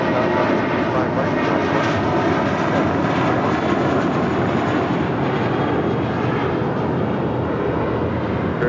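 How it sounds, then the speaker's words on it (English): A Spirit Airlines A320 jet departs LAX on runway 25 right, a loud, steady engine roar that holds evenly without a break, with no voices over it. "That flight heading to Atlanta, Georgia, Spirit Airlines flight 631 and an A320."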